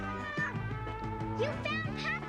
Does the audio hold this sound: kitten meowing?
yes